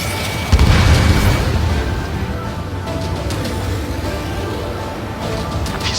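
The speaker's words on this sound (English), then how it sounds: "Strider 1, missile launched." In the Ace Combat 7: Skies Unknown video game, a missile launches and explodes with a heavy boom, followed by a sustained rumbling roar and scattered crackling bursts, loud and continuous.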